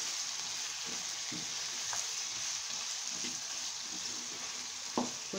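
Methi aloo sizzles in a pan with whole chilies, turmeric and spices while being stirred, a continuous close frying hiss broken by soft scraping strokes and one sharper clink near the end.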